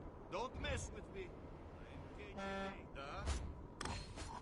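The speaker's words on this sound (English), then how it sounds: "Did he just honk at me?" A car horn toots a couple of short, bright blasts in Destroy All Humans 2 amid game street noise, mixed with someone talking over it.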